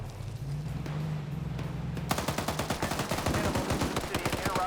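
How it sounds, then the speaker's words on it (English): Gunfire in the military video game Arma 3 breaks out in rapid automatic bursts after a stretch of quieter background sound, loud and sustained to the end. "Shoot them, gunners! Shoot them! Shoot them all!"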